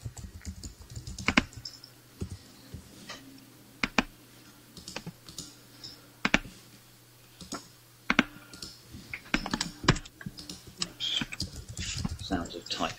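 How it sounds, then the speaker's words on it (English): Clicks and taps of typing on a computer keyboard, irregular bursts of keystrokes with distinct louder clacks, heard faintly under a low background hum while people talk intermittently. "Sounds of typing from..."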